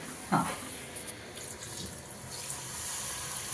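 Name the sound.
water poured into pot for masoor pulao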